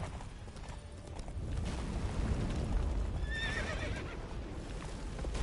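Roach, Geralt's horse in The Witcher 3, lets out a clear, quavering whinny about two-thirds through, preceded and followed by steady hoof clip-clop and low game ambience, with no talking.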